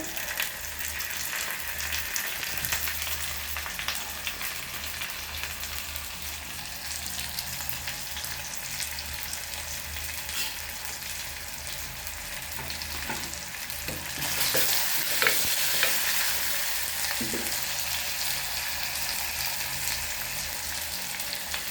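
Continuous close sizzling and crackling of curry leaves frying in a pan for fish curry, with occasional stirring scrapes; the sizzle intensifies partway through.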